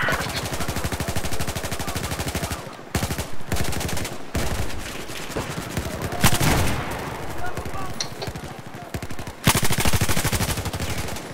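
MG4 machine gun in Battlefield 4 on the Golmud Railway Rush map, firing long, dense automatic bursts that run nearly nonstop. A few brief gaps break the stream, with loud, close shots throughout.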